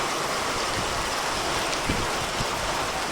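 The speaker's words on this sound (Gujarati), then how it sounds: "અત્યારે છે ને વધી ગયો છે વરસાદ" Heavy rain pours down in a dense, steady roar, close and loud throughout, with scattered heavier drops striking a surface.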